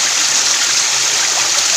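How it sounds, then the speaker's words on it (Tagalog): Fresh water flows steadily through a rice field, giving a continuous close rushing and trickling wash with no pauses and no voices. "Ang ganda ng agos ng tubig."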